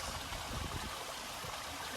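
Soft, continuous rushing of flowing stream water on farmland, quiet and steady with no voices, as rain begins.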